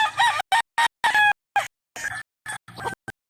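Chickens and roosters on a game farm in Canlaon, Negros Oriental give a string of choppy, close clucks and partial crow fragments broken by brief silences.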